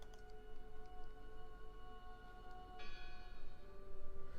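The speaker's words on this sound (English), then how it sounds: "I heard the bell." A church bell rings inside the horror video game Draugen, its tone lingering and humming against a dim ambient background, fairly faint and alone, with a fresh strike swelling the sound partway through.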